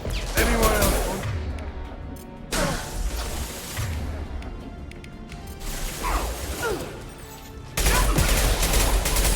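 Rifle fire and clattering mechanical weapon sounds in Mass Effect 2, loud and busy, with bursts of shots over rumbling background combat noise.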